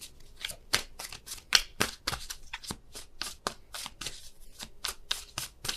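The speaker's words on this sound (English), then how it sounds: "There's still a ton of cards coming out." Tarot cards being shuffled by hand in a quiet room, a rapid series of crisp riffling bursts, close and alone.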